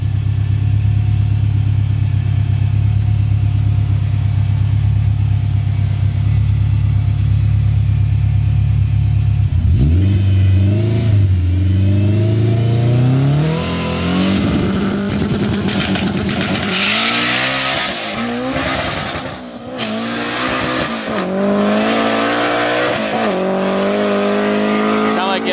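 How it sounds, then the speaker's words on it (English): A drag car with a stock Honda K24 engine making 500 horsepower holds a loud droning idle, then launches down the strip, revving hard through rising gear pulls with brief dips at shifts, close and powerful, with a voice talking over it. "Stock K24, 500 horsepower. He's trying to get into the 10s this pass."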